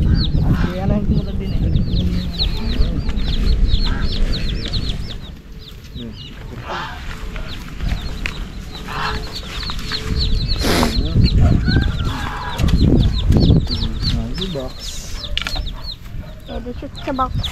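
Chickens cluck steadily with chicks peeping and an occasional rooster call, close and continuous over several seconds while people talk nearby.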